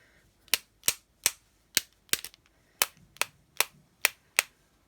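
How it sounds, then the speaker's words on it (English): A block banged repeatedly on a surface to knock out splatter for paint stamping: about a dozen sharp, loud knocks at an irregular, roughly half-second spacing, close by, with no talk. "Just something to bang this on and get some."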